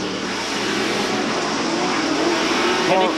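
An off-road race truck engine roars on board during a 2008 CORR race at Chula Vista, heard near and loud as it drives over the Devil's Leap jump, holding a steady drone before revving up at the end.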